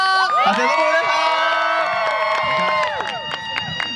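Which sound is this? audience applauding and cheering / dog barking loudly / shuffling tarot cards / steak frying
audience applauding and cheering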